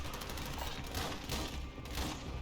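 A deployed turret gun fires at zombies in Call of Duty MWIII zombies mode, a fairly quiet, continuous rapid stream of gunshots with a constant rattling texture across the whole stretch.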